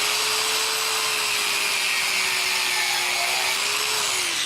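A DualTools CS450 power tool cutting through crown molding gives a steady, loud high-pitched whine that holds constant for several seconds, with a slight pitch dip near the end and no voices.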